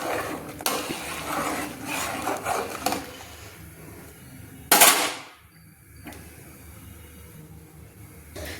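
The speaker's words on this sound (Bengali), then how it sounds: "আমি অনবরত চামচ দিয়ে নেড়ে নিয়েছি।" A spoon scrapes and clinks around a pot of milk being stirred, in a run of rough scraping followed by a sharp metallic knock, then a quieter stretch.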